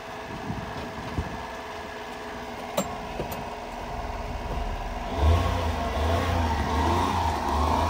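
Honda ACTY mini truck engine cranks and fires up partway through, then settles into a steady, fairly loud nearby running drone after a stretch of quieter background noise with faint clicks.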